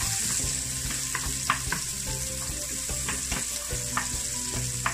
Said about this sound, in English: I think my oil is getting hot, so I'm just gonna put my onions in.